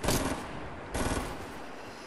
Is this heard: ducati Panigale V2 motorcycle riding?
no